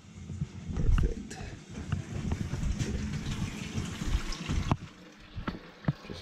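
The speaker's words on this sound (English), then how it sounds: "Let's just ship water through the boiler." Water flushing through a steam boiler during a no-heat service call on a plugged steam return: a steady, close churning gush with low rumbling surges and a few sharp knocks toward the end.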